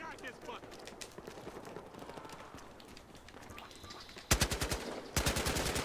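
SA 58 OSW rifle firing in Battlefield during a Chinatown team deathmatch, rapid high-cycle bursts with distant gunfire and footsteps first, then two loud close full-auto strings near the end.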